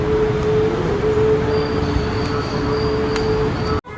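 A train at Chennai railway station, heard as a steady, loud rumble of rolling cars with a sustained metallic whine running throughout, cutting off abruptly near the end.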